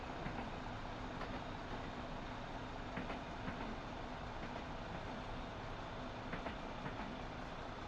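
A train in a video game climbing uphill on the Goblin line, a steady low rumble with faint rhythmic clicking from the rails, quiet and continuous.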